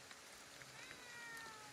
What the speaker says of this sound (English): Hey, look, it's a cat.